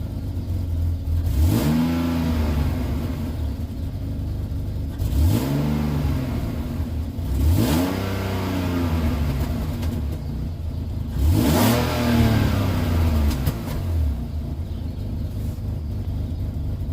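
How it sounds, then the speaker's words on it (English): A BMW E36 engine running with its mass airflow sensor unplugged and 3.5-inch intake piping revs up and settles back four times in a steady rhythm, loud and close, with no talking. "Mass airflow is plugged out and the revving is pretty normal"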